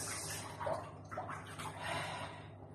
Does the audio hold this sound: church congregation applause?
no